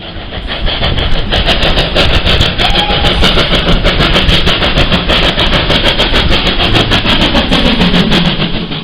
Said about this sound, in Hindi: भाप के रेल की इंजन की आवाज कुछ कुछ ऐसी ही होती थी, छुक छुक छुक छुक।